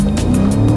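A BMW M5 accelerating hard, its engine note climbing steadily in pitch with a dense, continuous roar, heard from inside a heavily soundproofed cabin.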